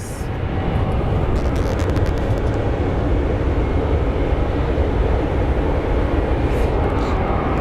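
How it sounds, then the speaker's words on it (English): A WestJet Boeing 737 MAX is pushed back at Phoenix Sky Harbor International Airport, giving a steady, loud broadband jet roar that holds evenly throughout with no voices. "we have the pushback. Of a WestJet 737 MAX."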